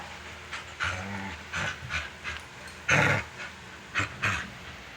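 A puppy pants and whimpers up close in short rhythmic bursts, a few breathy huffs with faint whines between them.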